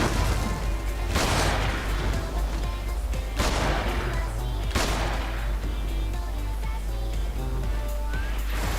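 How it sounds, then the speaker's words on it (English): Sniper rifle shots in Freedom Wars Remastered during ranked PvP, three heavy booming reports spaced a couple of seconds apart, each with a long, loud, crashing tail over a constant low rumble. "Whoever keeps shooting me with that sniper rifle, stop."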